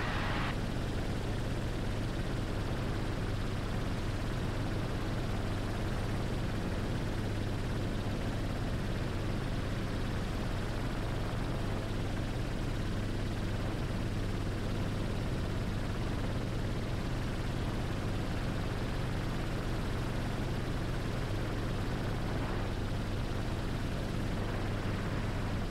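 Steady, loud rotor and engine roar inside a helicopter flying over the Great Salt Lake, a continuous dense drone with no pauses and no speech.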